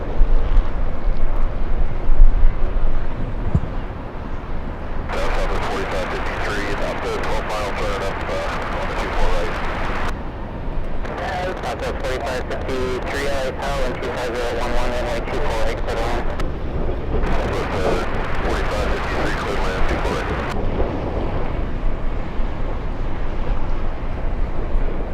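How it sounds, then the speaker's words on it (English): An Alaska Airlines Boeing 737 jet arriving at LAX from Portland, a loud continuous roar with wind buffeting, overlaid by intermittent radio chatter from air traffic control. "Coming in right now, we have Alaska Airlines flying in from Portland"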